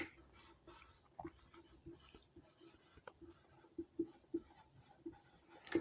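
A hand writes the answer "hematocrit", producing soft, scratchy strokes in short intermittent bursts with occasional light taps. It is fairly faint and close, with no talking.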